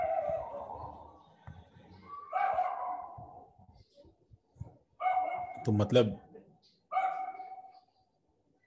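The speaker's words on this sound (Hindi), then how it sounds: "सर कुत्ते भौंक रहे हैं।" Dogs bark in short bursts at moderate distance, several separate barks spread across the moment, with people talking over and between them.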